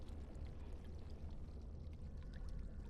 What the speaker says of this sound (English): So, fill the earthen jug with water